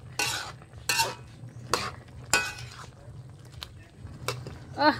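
A ladle stirs squid adobo in a pot, several loud scraping, clattering strokes against the metal at irregular intervals over a faint simmer, close by.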